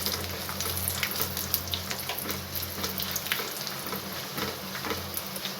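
Christmas fruit frying in a pan for a maida-based sweet, a dense steady sizzle with a soft rhythmic stir and faint clicks, close up, under a low hum and with no voices.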